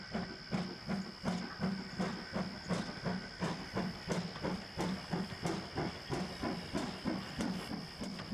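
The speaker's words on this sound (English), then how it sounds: "When he had steam up, Dudley snorted away" Rhythmic chuffing of a Trainz simulator steam locomotive, steady evenly spaced puffs with a constant hiss, fairly close and continuous throughout.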